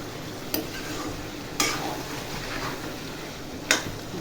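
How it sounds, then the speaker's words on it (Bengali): Ginger, garlic, onion, chilli, turmeric and cumin sautéing in a pan, a low sizzle under scraping spatula strokes with three sharp metallic clinks spread across it, no talking. "একটু আদা রসুন পেঁয়াজ লঙ্কা তারপর হলুদ জিরে দিয়ে একটু কষিয়ে নিচ্ছি।"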